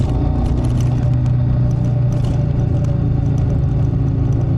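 A motorcycle's exhaust picked up by a clip-on wireless mic mounted near the back of the bike, giving a loud, continuous engine roar and rumble that stays close and steady throughout, with no talking.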